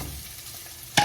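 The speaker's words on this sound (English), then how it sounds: "And put them onions down in there." Onions fry in a pan in a home kitchen with a soft, steady sizzle, and a sharp clank lands right at the end.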